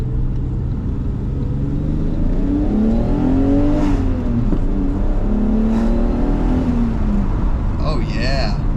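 A BMW E34 with a 3.7-litre stroker M30 engine on a standalone ECU accelerates hard to redline. The engine note climbs steadily in pitch over several seconds, eases off briefly, then rises again, loud and close.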